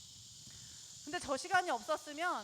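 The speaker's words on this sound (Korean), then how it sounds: "매미 한여름 소리." Midsummer cicadas along the Nakdong River bank drone in a steady high buzz throughout, fairly faint, with a person talking loudly over the second half.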